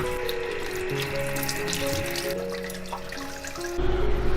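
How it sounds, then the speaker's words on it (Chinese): Water runs steadily from a kitchen tap as vegetable side ingredients for a seafood pot are washed, a continuous close splashing stream with light clatter, no talking. "然后我们来洗一些配菜，清洗干净"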